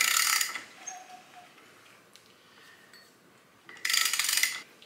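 Ratchet turning a BMW S54 engine over by hand, two loud bursts of rapid clicking ratcheting at the start and end, close, with quieter mechanical rubbing between and no talk.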